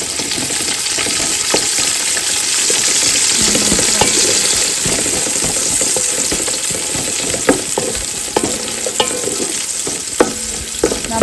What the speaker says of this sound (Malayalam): നമ്മളിതിലേക്ക് സ്ലൈസ് ചെയ്ത് വെച്ച സവാള ആഡ് ചെയ്ത് കൊടുക്കും.